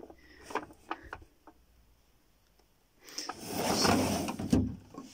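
A fossil cabinet drawer holding Gault ammonite specimens slides open or shut, a few light knocks first and then a longer, loud sliding rumble ending in a thump, close and without talk.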